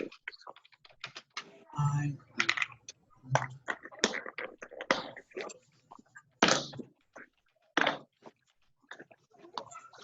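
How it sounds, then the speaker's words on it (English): Keys clatter on a computer keyboard in quick irregular bursts, close and fairly clear, with brief pauses between runs. "Let me go ahead and type that."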